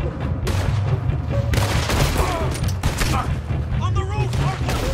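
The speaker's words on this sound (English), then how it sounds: "On the roof, Arthur. Shoot him" Gunfire during a Red Dead Redemption 2 shootout, with dense repeated shots and booms over a busy, loud game soundscape, while voices talk over the action.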